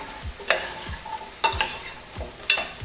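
A spoon stirs butternut squash and ginger soup in a pot, with a few sharp scrapes against the pot at uneven intervals over a soft low bubbling background, close and moderately loud, with no talking.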